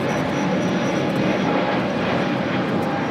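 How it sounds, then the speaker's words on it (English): A Viva Aerobus Airbus A321neo takes off at LAX, bound for Monterrey, its jet engines a loud, steady broadband roar that holds throughout. "623 taking off to Monterrey on an A321 Neo."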